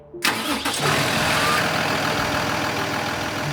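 A big rig truck engine cranks and catches, then settles into a loud, steady, rumbling idle close by.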